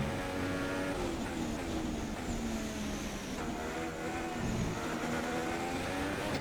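An F1 car engine in F1 2016 at the Malaysian Grand Prix qualifying, a steady, droning whine with gear-shift rises and falls, moderately loud and continuous with no talk.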